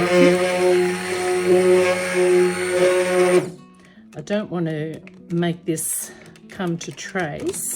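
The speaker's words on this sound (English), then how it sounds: "Poor old blender's been getting a real caning lately." A stick blender whirs steadily at close range for a few seconds while mixing rose soap, then cuts off, leaving a person talking.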